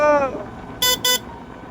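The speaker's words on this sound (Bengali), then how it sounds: "এই গাড়িগুলো এত জোরে জোরে যাচ্ছে" A car horn sounds twice in quick succession, two short honks on a busy road near a level crossing, after a brief voice at the start, with low traffic rumble underneath.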